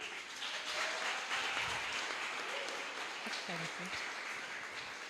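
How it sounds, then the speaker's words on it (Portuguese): Steady applause from a crowd fills the whole stretch, with a few voices faintly audible underneath. "Vamos aplaudir a Roberta?"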